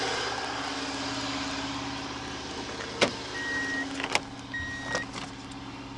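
Steady engine and road drone from inside a 1991 Subaru Legacy turbo during a ride, noisy because its timing needs adjusting, constant and fairly loud with a few brief clunks.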